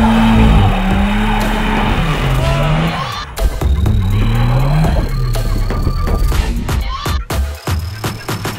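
Subaru climbing a steep off-road hill, its exhaust note loud and close, with a rising and falling drone as the engine labours, alongside rough broadband noise from tyres scrabbling on the slope.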